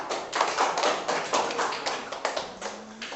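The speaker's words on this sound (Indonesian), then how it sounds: "Udah, itu kasih tepuk tangan." A classroom of students claps hands together in a quick burst of overlapping claps, close and fairly loud, forming a rough rhythmic pattern that continues for a few seconds.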